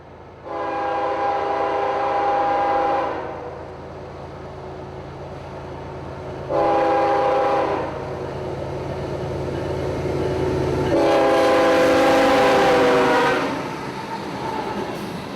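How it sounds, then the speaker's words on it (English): An empty coal freight train rumbles steadily nearby in fog in North Florida while its horn sounds in three loud, sustained blasts, the last one longest and harshest. "Through the fog and up the hill toward Dyal Road is E092, an empty coal train"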